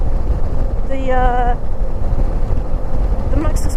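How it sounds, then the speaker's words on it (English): Steady, loud wind buffeting on a motorcycle moving at about 45 mph, a continuous low roar that runs under a rider's brief spoken words. "Really windy out there"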